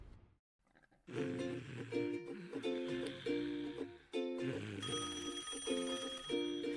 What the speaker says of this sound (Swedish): Det är någon som ringer.